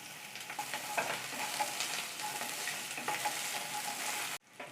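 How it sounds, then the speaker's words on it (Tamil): Ginger, garlic and green chilies sizzle steadily in oil in a pan while being stirred, the frying hiss holding close and even before cutting off abruptly near the end. "இஞ்சி பூண்டு பச்சை மிளகாய் எல்லாம் நல்லா வதங்கிடுச்சு."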